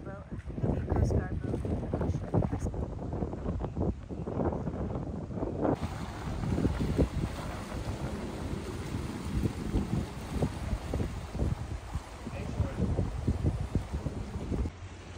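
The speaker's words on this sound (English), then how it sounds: "It's either a Coast Guard or it's a whale watching boat." A passing Coast Guard or whale-watching boat near San Juan Island, a low engine rumble under strong wind buffeting on the microphone, with people talking throughout.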